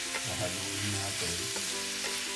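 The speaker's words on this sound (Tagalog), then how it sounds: "Haluin natin." Pancit habhab noodles with carrot, sayote, bean sprouts and pechay being stirred in a wok, a steady close sizzle under repeated scraping and tossing strokes, no talking.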